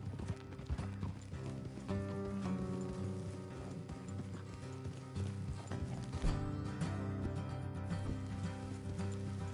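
Hooves clip-clop steadily from horses being ridden along a road in Red Dead Redemption 2, a continuous rhythmic trot with tack and gear rattling, set under a dense in-game soundscape and music.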